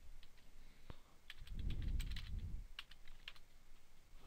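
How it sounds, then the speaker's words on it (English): Faint, quick keystrokes of a password being typed on a computer keyboard, a short run of light clicks in a quiet room. "once you get the password, type it in and see if you can log in."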